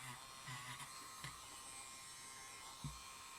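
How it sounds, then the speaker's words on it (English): Dremel rotary tool grinding the tops of terminal nuts on a Lionel postwar 022 remote switch, a faint high buzzing whine with short low knocks as the tool touches the metal. "I'd Dremel the tops of the nuts, terminals I mean."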